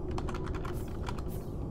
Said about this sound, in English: if I can type the word spawn